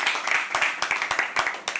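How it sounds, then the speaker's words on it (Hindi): Audience applause at a live poetry open mic night at The Habitat, dense rapid clapping from a room of listeners, steady and fairly close throughout the short burst. "एक बार जोरदार ताली इनके लिए।"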